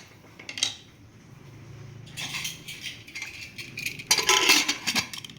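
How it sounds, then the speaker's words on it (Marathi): A metal lid is fitted onto a pressure cooker holding white pulao, giving a few close clinks and scraping metal knocks, with a louder clattering burst near the end. "कुकरला झाकण लावायचं"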